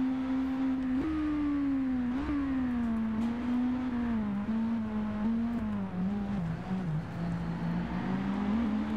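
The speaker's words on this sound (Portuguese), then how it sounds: "Primeiro test ride com a XJR1300." A Yamaha XJR1300 motorcycle engine hums steadily in a PS4 riding game, its pitch rising and dipping with small throttle blips as the bike cruises along, loud and close with no voices.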